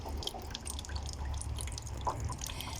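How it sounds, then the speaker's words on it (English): Condensate water dripping from an air conditioner, soft irregular drips against a low background hum, faint and close. "There is a regular uh, dripping of water"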